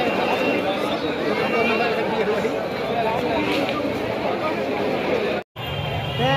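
Dense crowd chatter at a Ganpati festival gathering, a continuous babble of many voices close around, with a brief dropout near the end.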